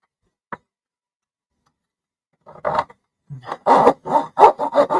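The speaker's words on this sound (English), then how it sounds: "So, I'm doing it with the razor saw." A razor saw cuts in short, rasping back-and-forth strokes that start out faint and turn into a quickening run of close, scratchy pulls after a single light tick.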